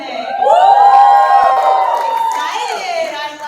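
Crowd at a Northeastern University entrepreneurs' demo day cheering and whooping together, a loud, sustained burst of voices from an excited audience that swells and then eases slightly.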